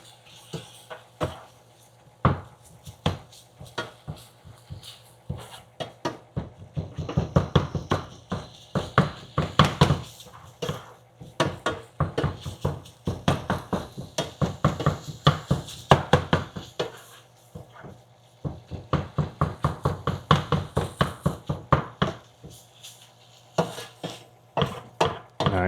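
Food with MSG added gets mixed by hand, producing a long run of close, sharp taps and knocks against a bowl or pan. The clacks come in fast irregular clusters with brief lulls, and no one speaks.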